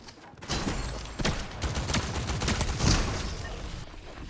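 Fortnite gunfire, a burst of shots and broadband bangs repeating over about four seconds, loud and close, with no talking over it.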